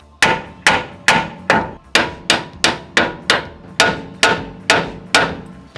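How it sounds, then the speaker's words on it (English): Roughly a dozen loud, evenly spaced hammer blows ring out close by, each a sharp metallic strike with a short decay, during work on a Toyota 80 Series Land Cruiser 4WD build. "You're choking up the hammer."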